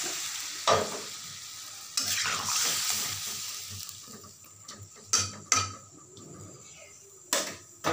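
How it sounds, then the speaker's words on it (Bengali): A vegetarian papaya, potato and soybean curry sizzles in a pan as water is added. Brief stirring scrapes and a few sharp clinks of a utensil against the pot break through the steady frying hiss. "এখানে জল দিয়ে দেবো"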